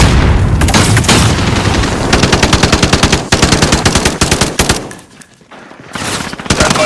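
Rapid machine gun fire in a video game hardpoint match on the Livestock map, loud sustained bursts of tightly spaced shots with brief pauses and a quieter gap near the end, heard alone without speech.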